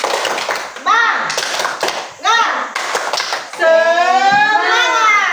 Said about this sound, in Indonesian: sebelum kita presentasi, kita tepuk semangat dulu.